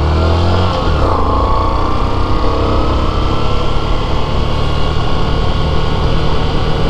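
Motorcycle engine running steadily and loud throughout, a continuous low rumble with a brief pitch shift near the start as the rider brakes with only the front brake, no voices.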